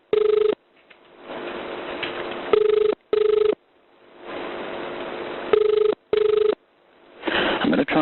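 A telephone line ringing during a recorded emergency call, with repeated ring tones in pairs of long and short bursts separated by line hiss and brief silences, ending in a muffled voice on the line.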